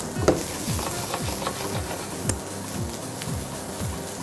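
Courgettes sizzle in a hot pan with butter and are stirred, a steady close frying hiss broken by repeated scraping strokes of a utensil against the pan, with no voices.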